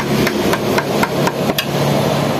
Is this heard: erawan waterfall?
no